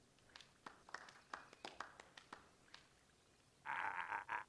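Scattered claps and cheers in the video game Beacon Pines, a sparse round of applause in short bursts that swells into a louder, fuller cheer near the end.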